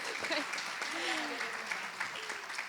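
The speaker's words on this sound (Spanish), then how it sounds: "Aplauso para Ullán, por favor." Steady audience applause fills the room at a moderate level, with a voice briefly audible over the clapping.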